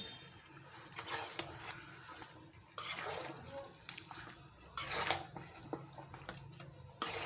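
Goat meat pieces for a bhuna curry being stirred in a cooking pot: close, intermittent scraping and wet shuffling strokes with occasional sharp clinks of the spoon against the metal.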